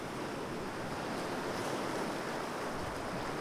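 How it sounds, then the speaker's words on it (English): Ocean waves break on a shore in a dense, steady roar of surf and washing foam that stays loud and unbroken throughout. "Hearing the waves being pulled inward before they break forward."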